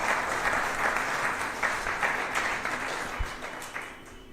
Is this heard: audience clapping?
yes